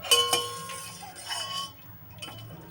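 Boiled cauliflower being lifted onto a plate, with bright clinks of utensil against dish, a few sharp taps early and another near the end, amid soft kitchen handling.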